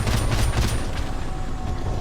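Loud, rapid gunfire from Call of Duty: Modern Warfare crackles in a dense burst, heaviest at the start and then continuing as a rattling volley, with no voices over it.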